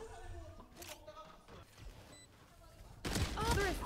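A Valorant esports match (T1 vs DFM, VCT 2024 Pacific Stage 1) with gunfire and a headshot: a few sharp shots crack beneath an excited commentator, and a louder burst of firing comes near the end.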